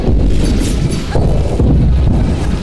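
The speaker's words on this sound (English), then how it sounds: "I had to turn my volume all the way down because of these explosion and rumble sound effects." Loud, dense explosion and rumble effects from the video game Dust: An Elysian Tail, a continuous heavy low booming roar with repeated bursts filling the whole stretch, no voices.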